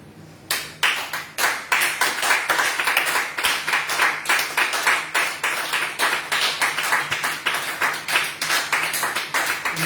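Church congregation claps in rhythm to acclaim the Lord, dense steady hand claps filling the whole stretch, loud and close with a faint low hum beneath.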